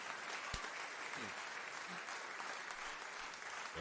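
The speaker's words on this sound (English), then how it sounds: "Give everybody a round of applause here." A round of applause rises from a group as dense, continuous clapping that holds at a steady level throughout, with a few sharper claps standing out and no talking.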